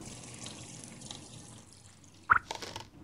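Water poured into a pot in the adventure game Deponia: quiet ambience, then a sudden splashing burst of liquid with a few trailing drips and gurgles near the end.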